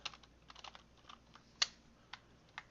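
Computer keyboard typing while entering parameters in design software: a quiet run of scattered soft keystrokes, with a slightly louder tap near the middle and a few isolated clicks after it.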